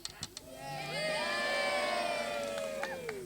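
Students at an end-of-year prizegiving assembly at Fyling Hall School let out a swelling cheer, a crowd of young voices whooping and shouting together, rising after a few sharp sounds and holding loudly for a couple of seconds.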